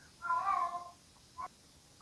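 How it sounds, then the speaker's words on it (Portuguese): A house cat gives a complaining meow followed a moment later by a shorter second call, moderately close and standing alone against quiet room tone. "Meu gato reclama."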